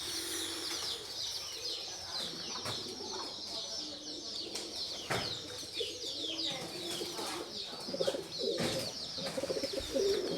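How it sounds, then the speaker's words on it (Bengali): Domestic pigeons cooing at home in a steady, soft chorus of low coos with faint chirps in the background, moderately distant and continuous, with no clear talking. "সরে না কবুতরগুলা"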